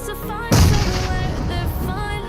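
A single loud, close grenade explosion in the video game PUBG Mobile, bursting suddenly and leaving a rumbling tail, with steady tonal game sound before and under it.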